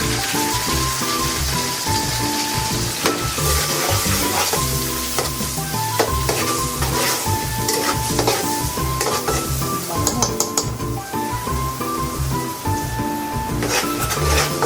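Garlic sautéing in a pan for creamy chicken sopas, a steady close sizzle with occasional stirring scrapes, mixed under continuous background music.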